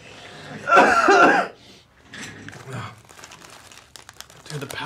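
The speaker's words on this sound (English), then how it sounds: "I love that you're trying to start coughing." A burst of coughing triggered by inhaling spicy powder from a super-spicy cereal taste test, loud and brief near the start, followed by quieter rustling and scattered conversation.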